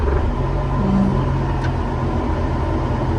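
A Caterpillar 950 wheel loader's diesel engine runs at a steady idle as its bucket raises and lowers, a constant low rumble with no revving and no voices.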